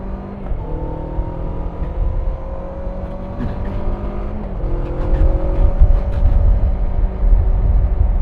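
A motorcycle engine hums and rises in pitch as it accelerates, the revving tone climbing through gear changes, close and steady with road rumble beneath.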